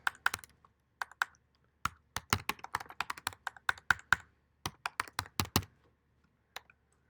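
Irregular bursts of computer keyboard typing, sharp close clicks in uneven clusters with short pauses, played alone with no talk.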